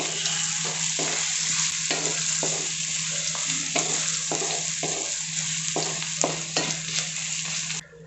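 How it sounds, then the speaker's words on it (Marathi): Peanuts frying in hot oil in a home kitchen pan, a dense continuous crackling sizzle broken by regular stirring scrapes, close and loud with no voices. "जर भाजलेले नसतील तर तेल टाकल्यानंतर सुरुवातीला"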